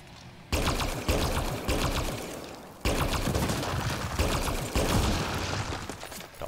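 Rapid automatic gunfire from the Mass Effect Andromeda video game crackles in long dense bursts, with brief gaps between volleys, loud and close.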